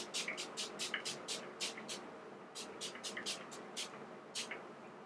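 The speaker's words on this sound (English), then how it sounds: "This is the Prime Set Refresh. It's the Replenishing Primer and Setting Spray." Too Faced Hangover Replenishing Primer and Setting Spray misted from a pump bottle in a series of short, crisp sprays in two quick bursts, close up with no talking.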